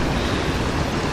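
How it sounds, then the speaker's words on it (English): A bubbling mountain brook outdoors, a continuous dense rush of water, close and steady, with no other sounds standing out. "You can hear that bubbling brook in the background."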